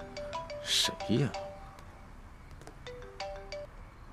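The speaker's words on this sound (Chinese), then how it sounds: "电话响了。" A telephone plays a melodic electronic ringtone, its repeating tonal notes recurring through the scene at moderate volume, with a brief voice rising over it early on.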